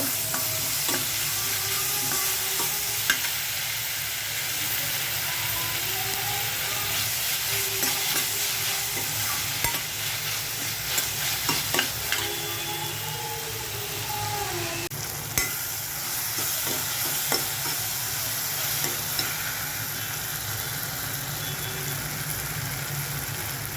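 Chopped tomatoes fry and get stirred in a pan: a constant close sizzle broken by scraping, clattering stirs and a few sharper knocks.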